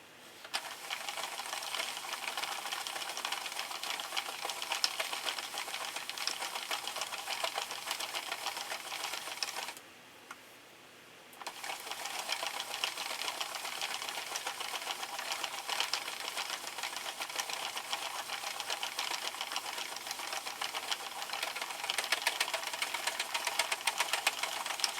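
A Sentro knitting machine works through LBY Scarfie yarn, giving a steady, fast mechanical clatter of needles and a turning crank that runs close and even, pausing briefly about halfway before resuming at the same pace.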